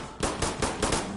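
Automatic gunfire in the video game Insurgency Sandstorm, five sharp, evenly spaced shots across about a second, moderately loud and close, with no talking.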